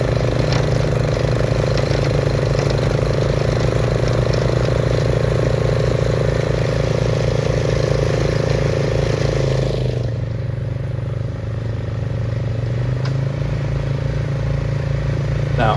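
A Swisher tow-behind mower cuts through thick pasture brush, a steady loud engine drone with chopping clatter that dips and softens for a few seconds near the end, then holds again.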